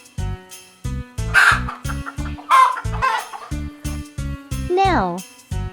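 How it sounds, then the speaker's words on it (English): Chickens cluck and squawk in short bursts over bright, rhythmic children's nursery music, with several separate calls scattered through the passage and a louder warbling cry near the end. "Chickens."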